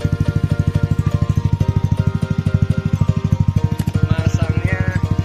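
Aftermarket 3Tech Ronin Hanzo exhaust on an older Yamaha NMAX scooter in racing mode, idling close by with a loud, steady low throb and fast even pulses, a brief rise in pitch near the end.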